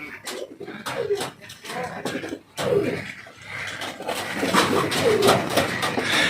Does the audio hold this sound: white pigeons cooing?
yes